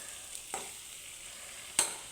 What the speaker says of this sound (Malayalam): എന്നിട്ട് നമുക്ക് പതുക്കെ പതുക്കെ ഇതുപോലെ ഇളക്കി കൊടുക്കാം.